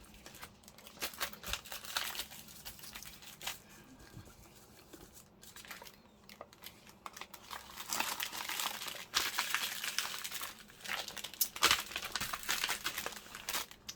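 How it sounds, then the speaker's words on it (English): Close, crunchy paper crinkles and crumples in bursts, rising and falling in intensity and growing busier toward the end. "It's probably a bit too crunchy, you know, the paper that's obviously crumply."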